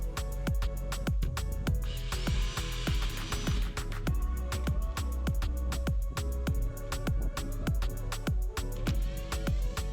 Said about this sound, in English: I tried, with great success I must say, to drill out the bungs with a dull drill bit